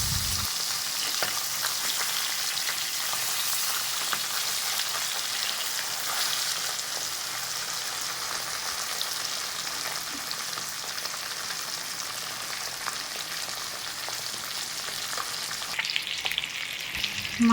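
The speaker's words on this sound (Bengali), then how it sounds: "মাছ এক পিঠ ভাজা হয়ে গেছে," Parshe fish frying in hot oil give a steady, dense sizzle and crackle throughout, even and close, with no talking over it.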